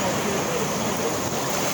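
Broad, steady roar of Pacific Ocean surf on the beach at Astoria, with wind buffeting the microphone throughout the short stretch and no voices over it.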